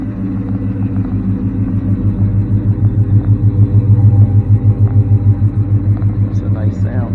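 A Pontiac GTO Le Mans idles with a deep, loud throbbing rumble that pulses rhythmically and swells slightly, close by, while a voice speaks briefly near the end.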